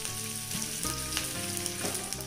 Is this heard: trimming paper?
no